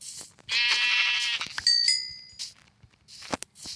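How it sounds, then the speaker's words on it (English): Sheep in a blocky sandbox video game on an island give a loud, near bleat lasting about a second, followed by short clicks and a second, shorter bleat, with no talking. "I see 2 sheep."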